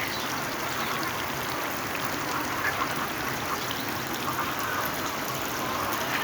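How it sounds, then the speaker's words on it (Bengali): Sprinkler water falls on the roof of a chicken shed during 42°C heat, making a steady, even wash of spray and trickling that continues the whole time without any talking. "দেখেন উপরে ঝর্ণা পানি পড়ছে, যত মুরগি ঘরটা ঠান্ডা থাকে।"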